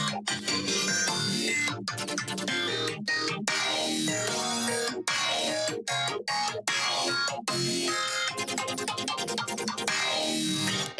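Growly wavetable synth bass from a color bass track, vocoded with a saw wave and driven by an LFO, plays loud and dense with choppy rhythmic gaps and stutters throughout.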